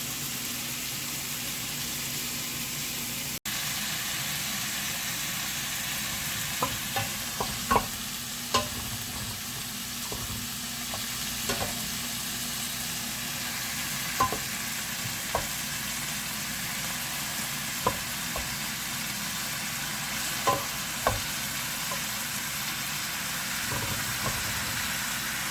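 Beans sizzle and fry in a pot for Cypriot fasolada, with a continuous frying hiss underneath and scattered spoon knocks and stirring scrapes against the pot, close and moderately loud throughout.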